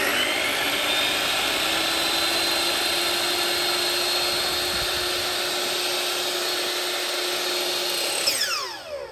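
A 305 mm miter saw runs at a steady, loud whine with a constant tone, holding evenly before winding down near the end.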